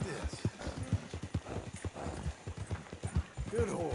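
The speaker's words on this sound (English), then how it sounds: "Good horse." A horse's hooves clip-clop in a quick, close, irregular rhythm on hard ground, with a brief whinny near the end and someone talking calmly nearby.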